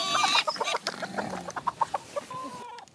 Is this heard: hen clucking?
yes